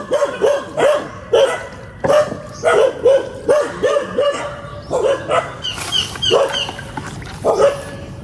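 A dog barks in a steady rapid series, joined by other dogs yipping and barking in overlapping bursts, loud and nearby.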